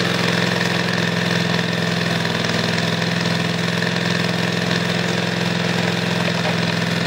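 A Kohler CV20S engine on a Craftsman riding mower runs at a steady idle with a constant low hum and mechanical clatter, loud and close, with no talking.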